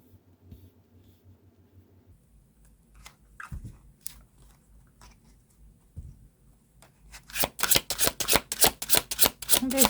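Tarot cards are handled and drawn from a deck, with soft scattered rustles and taps, then a fast run of crisp, close riffling snaps near the end.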